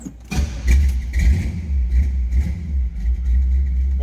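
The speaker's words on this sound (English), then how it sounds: "All right, let's go ahead and fire this up." A 1972 Chevrolet Chevelle Malibu two-door hardtop SS tribute cranks and catches within the first half second, then runs with a loud, close, steady low rumble and slight engine surges, with no talking.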